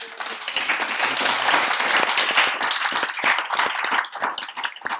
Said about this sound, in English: A round of applause for Rhotimmi, guys.